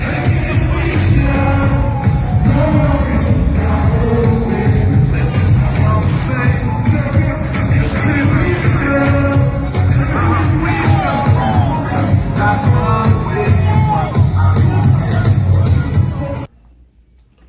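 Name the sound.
crowd cheering at a London show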